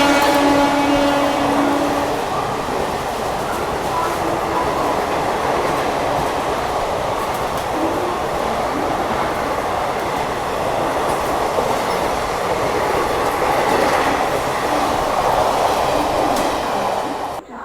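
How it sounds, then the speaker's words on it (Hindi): The Dadar–Ballia special train, hauled by a WG9 locomotive, overtakes close by with a loud, continuous rumble and rattling wheel clatter that holds steady to the end. "तो क्या ज़बरदस्त ओवरटेक करके गई है। यहाँ पे हमें Dadar Ballia special train WG9 के साथ थी।"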